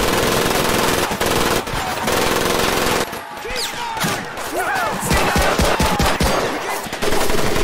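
Mounted machine gun turret firing in Medal of Honor: Pacific Assault, loud rapid bursts of gunfire with thuds and explosions, dense and continuous, with a short lull midway and game voices shouting under the shooting.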